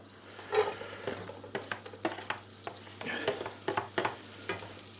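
Onions frying with mince in a pan, a low sizzle under repeated scraping stirs of a utensil that come in an uneven rhythm, close and moderately quiet, with nobody talking.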